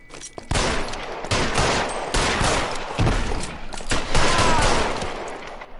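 Rapid volleys of gunfire in the 1940s Los Angeles detective game L.A. Noire, loud, dense overlapping shots with sharp cracks throughout, no talk.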